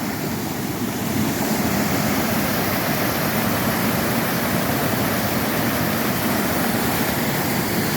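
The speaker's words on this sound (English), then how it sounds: "the water is running right off the falls right beside me." Water pours steadily off a waterfall in a forest wilderness, a loud, dense and unbroken rush heard up close with no voices over it.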